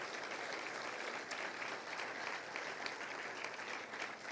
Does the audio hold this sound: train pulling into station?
no